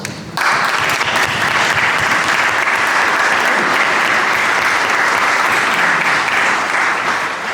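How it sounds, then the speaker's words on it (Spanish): Sustained applause from a church audience in Tres Cantos fills the room after a sharp onset, dense and steady at full loudness throughout, with faint voices mixed in. "Le damos un aplauso"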